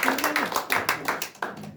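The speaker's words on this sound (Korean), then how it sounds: "한번 나오실 때 큰 박수로 맞아주시기 바랍니다" Audience applause greeting a guest lecturer walking onto the stage at a seminar, with bursts of claps rising and falling over about two seconds and a faint voice underneath.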